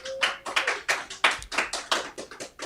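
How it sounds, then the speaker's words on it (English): A few people clapping for a TV show co-host, sparse, distinct claps close to the recorder, uneven in rhythm, lasting under three seconds with no one speaking. "Another round of applause for Horacio Roa."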